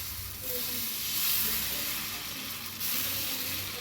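Dosa batter hisses and sizzles steadily on a hot tawa over a full gas flame, a loud, continuous close-up frying sound with slight swells.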